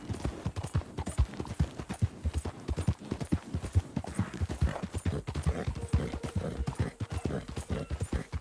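Horse hooves clip-clop in a fast, regular rhythm, the sharp, close hoofbeats continuing for the whole stretch with no talk over them.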